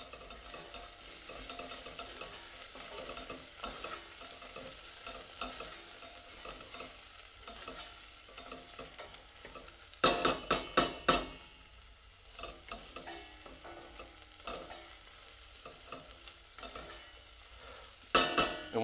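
Tomato paste is stirred into vegetables in a pot for a Croatian beef stew, with a soft continuous sizzle and a few sharp clusters of spoon scrapes and clatters, no talking.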